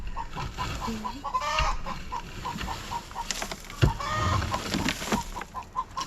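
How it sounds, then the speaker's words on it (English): A broody hen clucks repeatedly in a steady, agitated rhythm close by, with rustling and shuffling noises mixed in. "we made enough noise to scare the broody hen out, and she's not happy"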